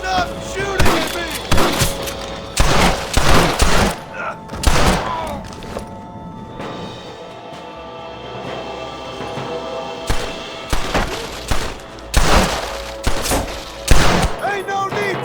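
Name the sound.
gunfire in the video game Red Dead Redemption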